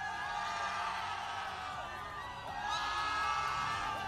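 A campus crowd at a 2018 PUBG Mobile group tournament whoops and screams in a sustained, loud roar of many voices, dense and continuous with a swell near the end.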